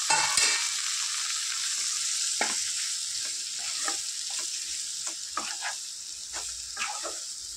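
Half a kilo of chopped tomatoes frying in oil for a meal maker curry, a loud continuous sizzle near at hand with intermittent scraping stirs and a heavy splash at the start.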